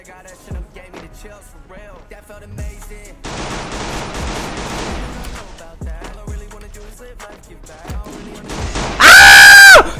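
Pistol fire in the battle-royale game Free Fire: scattered sharp shots spaced a second or so apart, a denser stretch of rapid gunfire in the middle, then a loud, harsh electronic blast at the end.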